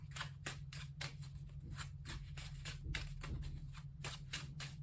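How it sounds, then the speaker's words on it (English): Tarot cards are shuffled close to the microphone, a quiet series of quick riffling flutters and taps repeating in an irregular rhythm over a low steady hum. "one more shuffle."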